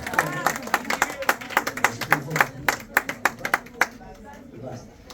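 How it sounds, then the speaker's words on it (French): An audience claps for a performer at an evening concert, a burst of distinct, fairly sparse claps from a modest crowd that thins out and fades after a few seconds. "Bravo, applaudissez-le et applaudissez un peu sa présence aussi"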